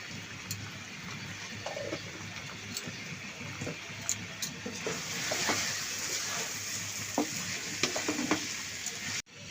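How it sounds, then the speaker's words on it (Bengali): Rice for a quail egg biryani fries in a pan and is stirred, giving a continuous sizzle that grows denser midway, scattered with scraping clicks from the stirring, then stops abruptly. "চালটা ভাজা কমপ্লিট"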